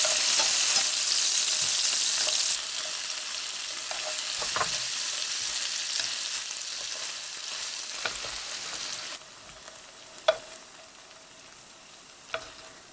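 Shrimp sizzle and crackle steadily in hot oil in a pan, with the hiss easing partway through and a few sharp clinks of a utensil against the pan.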